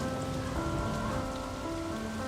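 Heavy rain pours steadily onto a surface, a loud continuous wash of drops with faint steady tones underneath and no one speaking.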